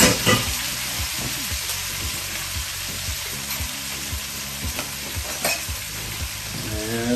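Mushrooms sizzle steadily in a hot pan while a spoon scrapes and stirs in repeated strokes, close and fairly loud.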